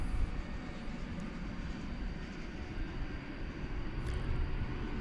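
A McDonnell Douglas MD-11 tri-jet airliner at Dallas Fort Worth airport at night gives a steady, distant broadband engine roar that swells slightly toward the end, with no voices.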